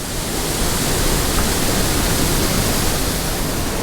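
A waterfall rushes through a wild gorge as a steady, loud wash of white noise that stays constant from start to finish, with no other sounds or voices.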